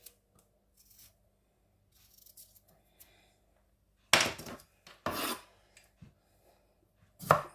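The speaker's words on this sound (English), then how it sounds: "So we're gonna cut it into slices as well, and then we add it inside." A knife slices fruit for detox water, producing a few sharp, close cutting and scraping strokes spaced apart between quiet gaps, with faint softer rustles earlier.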